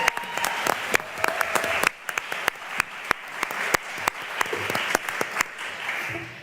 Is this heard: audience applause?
yes